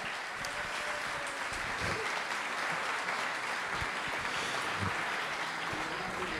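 An audience at an evening storytelling show applauds, a soft, distant, continuous patter of many hands with occasional sharper claps and no clear voices.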